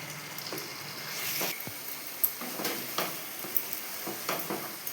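Potato curry spices stir-fried in a pan for a Bengali niramish aloo dum, giving a faint steady sizzle broken by brief scraping stir strokes, close up with no talking.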